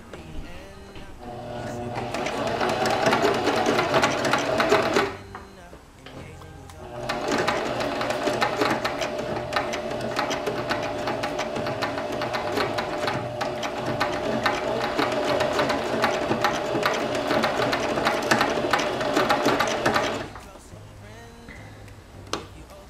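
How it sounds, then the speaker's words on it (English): A sewing machine stitching rainbow wig wefts runs in two long continuous bursts of rapid mechanical whirring and clatter, pausing briefly between them, loud and close. "You definitely want to make sure that you're sewing in a straight line."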